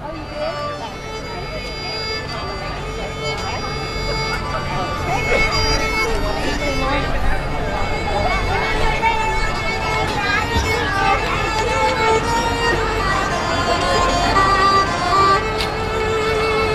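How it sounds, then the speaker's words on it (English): The Hanukkah storyteller sings at Epcot's World Showcase during the Festival of the Holidays, a steady outdoor vocal performance with accompaniment heard at a moderate distance over a chattering crowd. "You can hear the Hanukkah storyteller singing right now."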